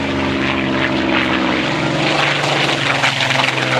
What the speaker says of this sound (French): il me semble bien qu'on avait un décollage peut-être de Spitfire